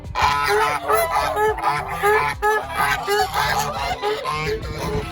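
A flock of geese honks noisily and repeatedly nearby, overlapping calls in a constant clamor with a faint voice underneath.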